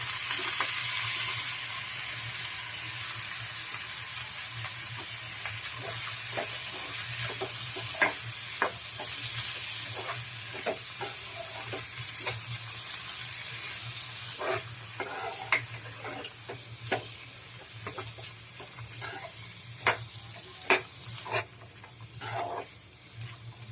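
Field beans and potatoes sizzling steadily in a pan with a broad hiss, joined by scattered clinks and scrapes of stirring that grow sharper toward the end.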